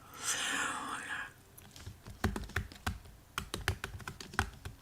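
Rapid bursts of keystrokes on a computer keyboard, irregular clicks and taps close by, following a brief stretch of soft breathy noise at the start.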